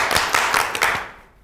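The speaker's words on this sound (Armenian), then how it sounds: "Եկեք բարձր ծափարենք" Applause greeting a singer, a short burst of close handclaps with a few distinct claps before it quickly fades out.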